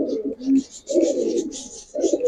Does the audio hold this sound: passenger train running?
no